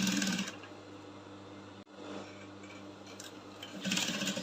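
A sewing machine stitches a cone sleeve seam closed, a steady mechanical whirr broken by a brief stop in the middle, then resuming with a faster burst near the end.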